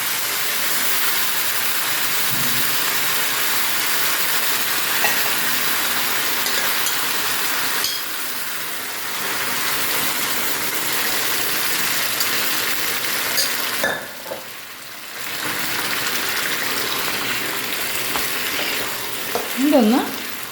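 Tapioca and chickpeas being stirred in a pan for Kerala-style kappa kadala: a steady sizzling, frying hiss with soft scraping stir sounds, close and continuous for the whole stretch, with a brief dip partway through.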